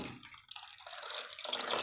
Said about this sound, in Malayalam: ഞാൻ വെള്ളം ഒഴിച്ച് കുതിർത്താൻ പോവാണ് ഒരേ കപ്പിന് ഒരു കപ്പ് ഞാൻ ഒഴിച്ചു വെള്ളം